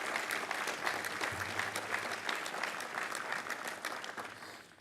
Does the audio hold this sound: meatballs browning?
no